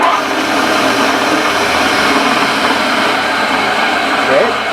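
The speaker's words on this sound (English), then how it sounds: "it is a 20-inch chop saw. It has a 15 horsepower 3-phase motor" A shop-built 20-inch chop saw with a 15 horsepower 3-phase motor runs in a workshop, giving off a loud, steady, unbroken motor whine and hum at close range for the whole stretch.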